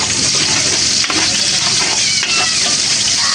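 Chopped onions go into a hot pan where tuna innards are frying, giving a loud, steady sizzle and crackle with a few stirring scrapes, close up and without talk.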